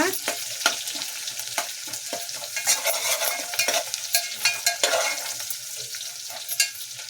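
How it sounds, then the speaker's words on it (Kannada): Onions frying in a pan for tomato thokku, a loud crackling sizzle punctuated by frequent quick stirring scrapes and clatters right up close. "ಈರುಳ್ಳಿ ಎಲ್ಲ ಚೆನ್ನಾಗಿ ಫ್ರೈ ಆಗಿದೆ ಇವಾಗ"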